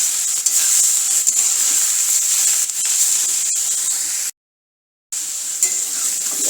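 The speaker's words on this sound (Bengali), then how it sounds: "শাকটা দিয়ে এবার ভেজে নেব।" Drumstick leaves (sajna shak) fry in a pan, producing a loud, steady hiss and sizzle with light stirring clatter, broken by a brief silent gap before resuming.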